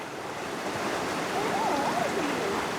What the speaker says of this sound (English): Look how clear and beautiful that stream is